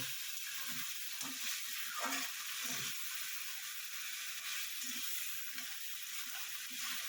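Ground cumin, coriander and turmeric powder sizzling in hot oil in a pan for a rohu fish curry, a steady soft hiss with occasional low scraping stirs, no talking.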